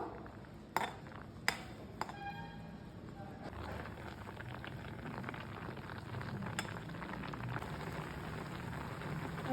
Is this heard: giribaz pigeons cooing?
no